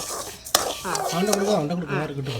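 Metal utensil scraping and clinking in a pan as a cup of parboiled rice is stirred and dry-roasted, with a couple of sharp knocks near the start and a voice talking over most of it.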